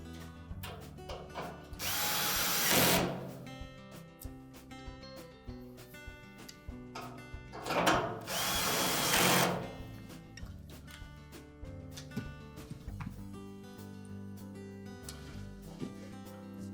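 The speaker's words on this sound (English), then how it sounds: "You can then put the 2 remaining screws in for that cross piece." A power drill drives screws into the cross piece of a Whirlpool dryer during a motor pulley repair. Two loud, whirring bursts of a few seconds each are separated by quieter handling and clanking, close up with no speech.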